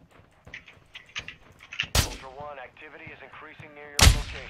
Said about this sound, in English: Hey, you hear that gunfire?